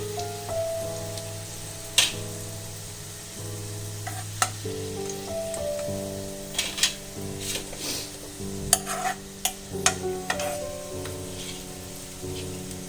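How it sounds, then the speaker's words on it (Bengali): Onions frying in oil for egg biryani, a steady soft sizzle with occasional sharp clinks of a utensil against the pan, continuous and moderately faint, with a tonal hum running underneath. "আমার অনিয়ন ফ্রাই হয়ে গেছে, আমি এই সময় এটা তুলে নেব।"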